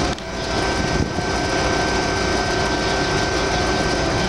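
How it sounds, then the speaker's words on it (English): Hydraulic pump system on an Oliver 4800 gravity table separator running with a steady, loud mechanical hum and broadband whir, constant throughout with a few faint tonal whines layered on top. "Here's the hydraulic pump system. It's all working like it's supposed to, clean and dry."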